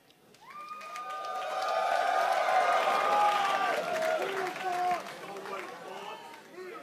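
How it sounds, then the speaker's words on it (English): A large esports arena crowd at a League of Legends match cheers and applauds in a sustained roar that swells and slowly fades, with a voice talking over it. "Sprightly crowd for the final game we have here of the day."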